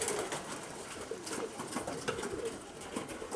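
Mykolaiv pigeons cooing softly amid steady noisy background, faint low calls repeating throughout.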